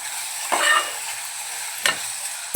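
Chopped tomato and garam masala frying in hot oil for Malvani-style vatana bhaat, with a soft steady sizzle broken by three distinct spoon scrapes against the pan.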